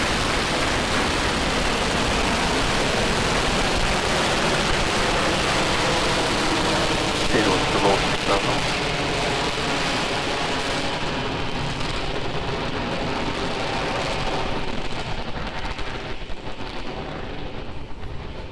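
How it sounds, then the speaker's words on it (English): A Falcon 9 rocket carrying a Crew Dragon capsule lifts off from pad 39A in an in-flight abort test, its engines giving a steady, loud, crackling roar that fills nearly nineteen seconds with little change. "Ignition, liftoff."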